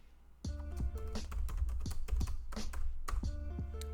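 Someone types the fdisk command on a computer keyboard while working in Linux, producing a quick, close run of crisp key clicks and thocks at an even rhythm, with no voices.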